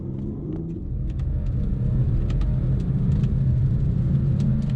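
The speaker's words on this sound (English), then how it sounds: "let's do a 0 to 60 without launch control and see what it does in the wet" Stage 1 BMW 435d diesel with a ZF eight-speed gearbox accelerating from 0 to 60 on wet road, a deep rumbling engine drone building in loudness with brief higher clicks, heard from inside the car without talk.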